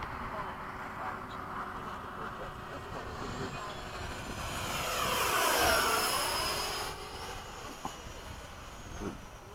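An airplane engine drones steadily, swelling louder as if passing close, then easing back to a continuous hum.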